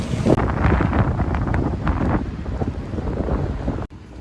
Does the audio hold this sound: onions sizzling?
no